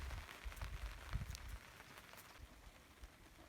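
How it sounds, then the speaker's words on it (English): Light drizzle falls on surfaces at a renovation site in central Portugal, a faint steady patter with soft scattered drops and low rumbles, no voices. "It's raining. Okay, it's more of a little drizzle, but it's a start."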